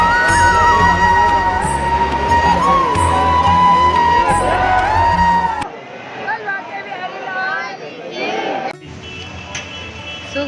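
A large, dense crowd packs Banke Bihari temple, loud overlapping voices, shouts and cheers swelling together up close, then the din drops to a thinner, quieter babble partway through.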